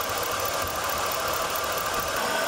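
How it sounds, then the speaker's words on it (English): A car engine runs under the hood with a steady, rough, fairly loud mechanical drone and a faint knocking texture throughout, with no talking. "Vehicle's making strange noises from under the hood."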